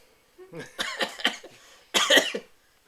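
A person with a persistent cough coughs several times, close and harsh, in two bursts, a short rough cluster followed by a pause and a louder second fit, with no talking.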